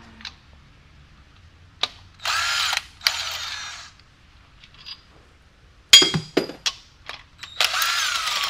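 Power tool driving a bolt into a BMW S54 engine, with several short whirring bursts of the drill, separated by metallic clinks and handling noises, close up and with no talking.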